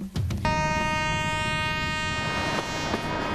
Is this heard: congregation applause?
no